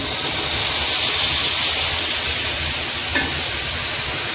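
A loud, steady hissing sizzle fills the whole stretch as water from boiling is poured into a hot pan, with a brief clink near the end.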